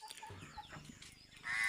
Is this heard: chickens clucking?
yes